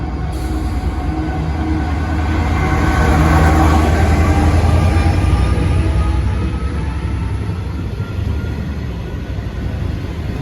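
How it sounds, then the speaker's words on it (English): A Class 66 freight train, 66-120, passes at Wandsworth Road with a loud, sustained diesel drone and rolling rumble that builds and then holds steady for the whole stretch, with no talk over it. "the next train to pass by will be a freight train"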